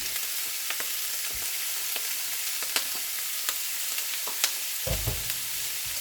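Bajri (pearl millet) dosa batter with grated carrots being stirred by hand, giving soft wet scraping with scattered light clicks against the bowl, quiet and steady with no talking.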